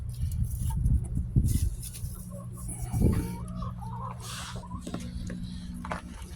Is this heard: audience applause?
no